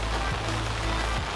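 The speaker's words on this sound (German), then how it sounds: "das regnet die ganze Zeit" Continuous rain patters onto a lake surface during carp fishing, a loud, close, even hiss of drops with a low rumble beneath.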